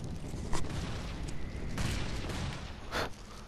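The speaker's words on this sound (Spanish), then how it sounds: "¿De dónde me vienen esos tiros?" Faint gunfire in the video game Loadout on PS4 cracks out in short bursts, a couple of louder shots standing out over a steady background hiss.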